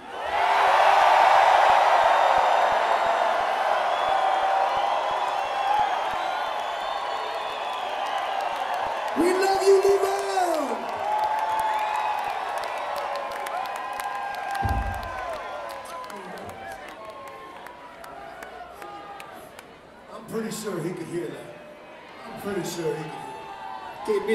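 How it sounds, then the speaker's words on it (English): A concert crowd screams as loud as it can, a dense, roaring wall of shrieks and whoops that starts at full strength and slowly fades over many seconds into scattered cheers and a few voices. "We all scream as loud as we can on the count of three."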